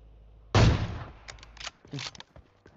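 A single sharp, loud AWM sniper rifle gunshot in PUBG cracks out, followed by quieter clatter and a couple of fainter pops.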